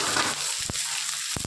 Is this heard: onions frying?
yes